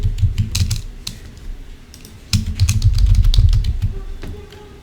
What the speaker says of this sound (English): I will write my password.